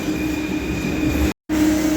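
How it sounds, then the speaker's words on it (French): Steady rumble of a metro train riding underground, with a constant hum and faint squeal, broken by a brief cut of silence before the noise resumes. "c'est vrai qu'il y a du monde dans le métro."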